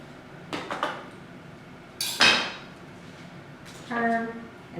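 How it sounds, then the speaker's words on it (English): A knife slices a tomato into small pieces on a cutting mat, giving a few separate crisp cuts and taps spaced over a few seconds, close and moderately loud, with no talk. "cut your tomato into some smaller pieces"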